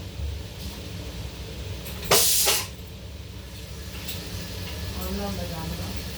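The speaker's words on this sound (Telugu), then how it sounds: "కుక్కర్ చెప్పాను కదా 4 విజిల్ వస్తుంది" Pressure cooker on a home kitchen stove lets out one loud, short burst of hissing steam from its whistle valve, over a low background hum and faint kitchen noise.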